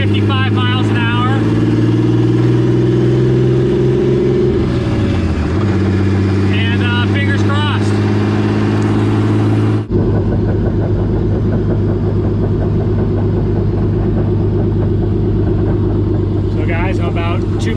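Turbo BMW kart engine cruising on the road around 55 mph, a loud steady droning hum with shifting pitch and wind noise, while someone talks over it in stretches.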